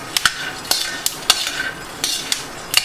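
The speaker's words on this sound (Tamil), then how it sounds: "மீடியம் ஃப்ளேமில் வச்சு நம்ம மெதுவாக வறுக்கணும்." Raw peanuts are stirred while dry-roasting in a pan over a medium flame, producing sharp intermittent scrapes and rattling clicks in an irregular rhythm, close and fairly loud, with no voices.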